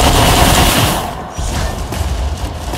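Heavy mech cannon fire in Mech Arena, a loud, dense burst of rapid shots and booming impacts filling the whole clip, close and continuous with almost no talk.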